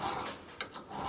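Hand file rasping on metal while servicing a Jeep JK axle during a U-joint replacement, a few short scraping strokes, faint and close, with no talk.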